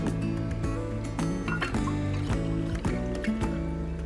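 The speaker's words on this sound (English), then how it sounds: "grab 1 cup of starter tea out there and put it with our SCOBY" Kombucha starter tea poured onto a SCOBY, wet sloshing and trickling liquid sounds close up, with irregular soft splashes and squishes over a few seconds.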